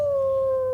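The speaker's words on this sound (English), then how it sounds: "the wolf howl" A sustained wolf howl as a sound effect in a spoken story, a single steady, clear tonal note held loud and close for under a second with no talk.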